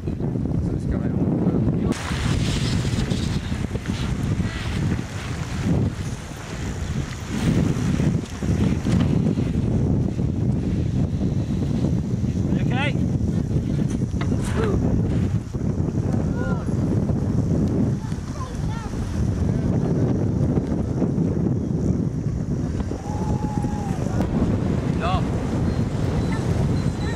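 Gusty outdoor wind at a kite launch buffets the microphone with continuous loud roaring and rumbling that swells and eases, with faint voices now and then underneath.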